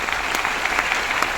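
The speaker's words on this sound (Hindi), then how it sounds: "एक बहुत बड़ी ताली होनी चाहिए अपने लिए" A seated audience at a health seminar claps steadily, a dense, even burst of many hands filling the room with no talk over it.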